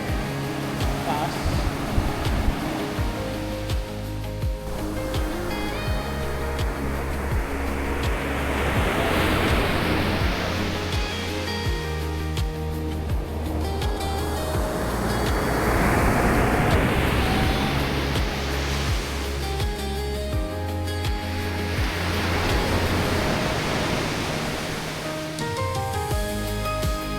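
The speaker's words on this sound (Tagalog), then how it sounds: "Nakakatakot yung alon." Ocean waves crash and roll in repeatedly on a shore at Dinadiawan, Dipaculao, rising in three big surging swells with wind buffeting the microphone, loud and close throughout.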